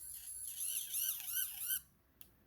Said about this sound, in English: Yeah, it came on, the siren.